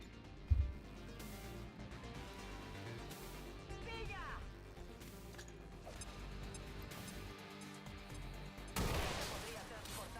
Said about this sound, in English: Throw the AP grenade.